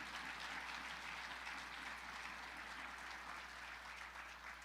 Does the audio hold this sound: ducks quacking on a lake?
no